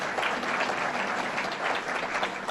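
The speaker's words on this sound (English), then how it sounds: "Also give a big round of applause to District Attorney Sedita, who's here." A crowd applauding District Attorney Sedita at Governor Cuomo's budget presentation in Amherst, heard as a steady, moderately distant wash of clapping for a couple of seconds.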